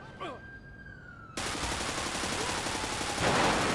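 Gunfire erupts in the video game GTA 5 during a police gang-unit patrol, starting as a loud, dense, sustained volley after a short rising whine. The shooting grows even louder toward the end.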